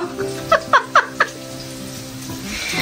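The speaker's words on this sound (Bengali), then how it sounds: "আর আমার কর্তামশাই হেল্প করছে চিকেনটা ভাজার জন্য।" Marinated chicken for chilli chicken fries in a pan, a soft steady sizzle under a few sharp clinks and scrapes of a utensil early on, then a quieter hiss continuing alone.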